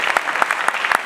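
A small crowd applauds steadily, with scattered distinct claps standing out over a continuous patter of hands.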